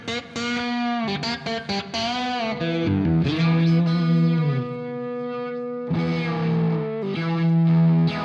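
Electric guitar run through a phaser and a uni-vibe style modulation effect, played alone with sustained, distorted notes and chords that swirl and shift in tone, loud and continuous with brief gaps between phrases.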